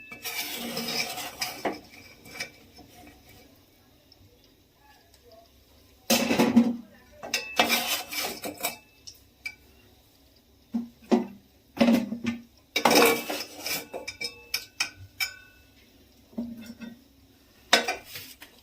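Metal utensils clink and scrape against pots and dishes as fried lobongo lotika, a traditional Bengali sweet, is lifted straight out of sugar syrup, in sharp, irregular bursts separated by quiet pauses.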